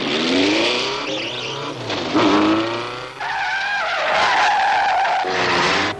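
A car drives fast in a chase, its tires squealing and skidding in long loud bursts while the engine revs and roars close by, with no voices.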